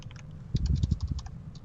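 Quick, close keystrokes on a computer keyboard rattle in a short burst of typing, fairly loud and with no voices.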